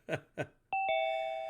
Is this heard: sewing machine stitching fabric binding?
no